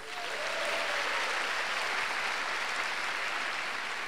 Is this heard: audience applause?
yes